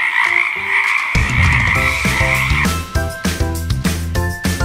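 Frogs croak in a steady, repeating rhythm over a bright, sustained musical backing, loud and close, with no talking.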